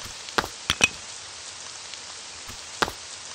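Game rain in Ib Remake, a soft steady hiss with a few sharp drop-like ticks standing out, faint and evenly spread with no talk.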